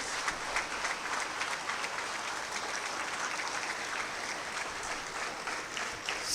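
Students at a pre-university college's annual cultural day in Puttur clap for their elders, a dense, steady wash of applause from a large crowd that holds strong for several seconds.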